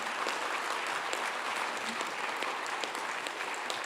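Full audience applause at a debate between Robert Price and Bart Ehrman, crisp dense clapping heard from a short distance and continuing evenly throughout with no speech.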